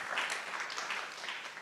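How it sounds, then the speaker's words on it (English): An audience applauds at a clay festival artist talk, a soft, distant wash of clapping that holds steady for the whole short stretch. "but let's give them a round of applause anyway."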